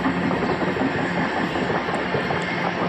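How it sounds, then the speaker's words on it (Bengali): A train passes close by in hilly Darjeeling, giving a loud, continuous rumble with a steady wash of rolling noise and faint metallic clatter that lasts the whole moment. "এত ট্রেনের আওয়াজ কি বলবো।"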